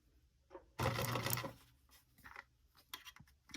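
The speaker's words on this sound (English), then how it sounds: "So I'm only sewing a couple of stitches, and I also kind of make my stitch length a little bit shorter than normal" A sewing machine makes a couple of short stitches on a tight curve of a quilt at reduced stitch length: one brief burst of whirring up close, followed by quieter fabric handling and light tapping sounds.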